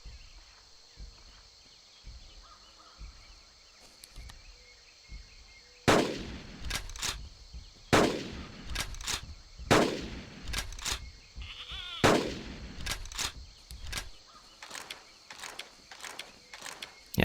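Rapid in-game gunshots aimed at a Brontosaurus in the hunting game Carnivores Legacy, a run of sharp, loud cracks starting near six seconds and repeating in clusters over quiet ambient wilderness background.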